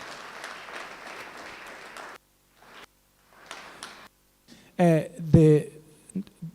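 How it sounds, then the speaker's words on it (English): An audience at a Free State school governing body excellence awards ceremony applauds at moderate volume for about two seconds, then it stops and a voice speaks with some noises in between. "Can you give Ntate Tinani and the team the round of applause"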